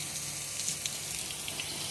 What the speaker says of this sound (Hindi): इधर ये पानी भी इससे चला जाता है अंदर